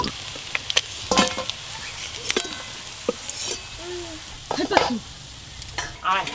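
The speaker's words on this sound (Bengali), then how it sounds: "এই মাছগুলো ভেজে নেব।" Small river fish frying in a pan for a home-cooked curry, with a steady sizzle beneath sharp clinks and scrapes of a spatula stirring, and brief voices talking nearby.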